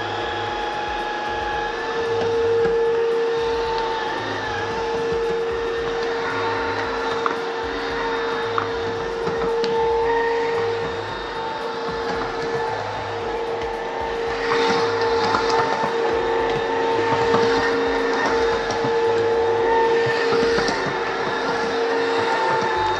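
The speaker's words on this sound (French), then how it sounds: "Ça aspire et ça nettoie en même temps." An iLIFE W90 3-in-1 wet-dry vacuum cleaner vacuums and mops a floor at once, giving a steady mechanical whine with a rattling, ratchet-like undertone that holds at an even level throughout, with no talking.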